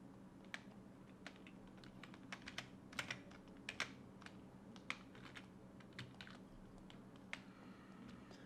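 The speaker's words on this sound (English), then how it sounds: "let me turn on my keyboard" Quiet, irregular computer keyboard typing: scattered sharp key clicks over a soft background hum, close but faint, with no voices.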